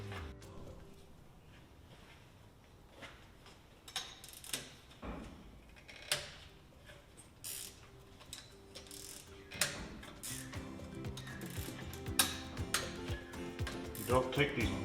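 A wrench loosening the cooling fan pulley bolts on an engine, with quiet ratcheting clicks and metallic taps in irregular bursts that grow busier toward the end, with no talking.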